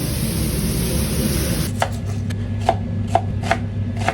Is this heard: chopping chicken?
yes